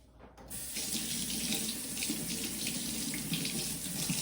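A kitchen tap turns on and runs steadily over peeled ginger being rinsed, a continuous close splashing stream with no voices.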